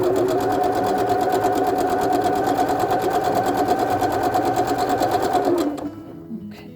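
A sewing machine stitches quilt pieces over pins in a rapid, even mechanical chatter, loud and close for about six seconds before it slows and stops, leaving a faint rattle.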